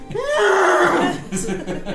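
A horse whinnies, a loud, wavering neigh that rises and then falls away, followed by voices or chuckling.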